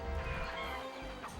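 Chickens cluck from the Donald Duck: Goin' Quackers video game, a short burst of fowl calls set against a steady layer of game music and effects.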